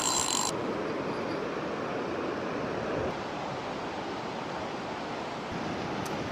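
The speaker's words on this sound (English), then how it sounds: "The tide's just racing in this beach" Incoming tide surges onto a sandy beach at Sandend, a steady wash of surf with a hint of wind rumble on the microphone, continuous and fairly loud.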